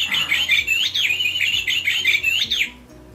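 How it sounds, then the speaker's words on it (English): Bird chirping loudly and close by, rapid repeated high tweets in a continuous agitated series that cut off abruptly near the end, with no talking. "But it got the bird stirred up. Damn bird, shut up."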